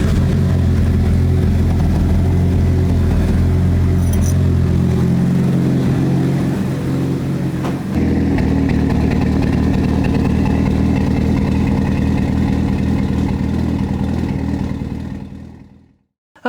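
A Mitsubishi Evo driven on the road: a loud, steady engine drone with mechanical clatter, a brief dip and shift in tone midway, then the sound fades out at the end.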